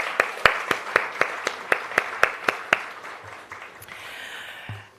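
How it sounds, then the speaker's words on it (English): A small conference audience claps, with loud, evenly spaced hand claps standing out over scattered applause that gradually fades. "A round of applause for them, please."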